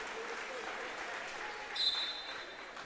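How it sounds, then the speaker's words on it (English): A hometown crowd at a varsity girls basketball game in Jackson Center applauds, a faint, distant wash of clapping that rises briefly near the end, with a voice faintly present. "They get a nice ovation here from the hometown crowd here in the habitat of the Cat in Jackson Center."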